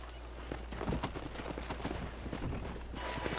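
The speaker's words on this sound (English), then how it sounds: "Let's see if we can't wrangle some horses." Horses clip-clopping at a trot in the Red Dead Redemption video game, a steady run of hoofbeats close by over a constant low game ambience, with no talk over them.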